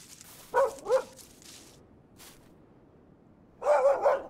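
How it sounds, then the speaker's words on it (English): A dog barks in two quick pairs of sharp, close barks, then falls quiet before another short burst of barking near the end, with no talking. "You stop barking."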